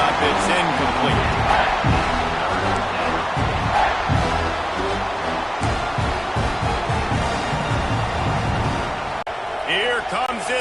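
A home crowd roars at a football game on third down, a dense sustained wall of cheering and noise with a commentator talking over it.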